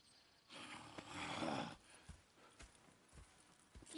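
Horses clip-clopping in a video game, a steady run of hoofbeats at moderate distance, rising in a louder stretch early on, then continuing as scattered, more distinct hoof strikes.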